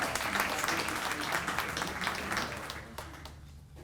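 Audience applause at a school moving-up graduation ceremony, a broad wash of many hands clapping that starts full and gradually thins and fades toward the end.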